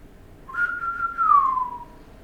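A person whistles a short two-part call imitating the Shoggoth's eerie Tekeli-li piping from At the Mountains of Madness, a steady tone then a falling glide, clear and close.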